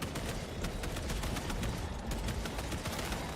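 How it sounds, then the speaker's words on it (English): Gunfire in the Warhammer 40,000: Space Marine II campaign: dense, continuous rapid shooting with heavy low rumble, steady and loud throughout with no talking. "Chiron is shooting something."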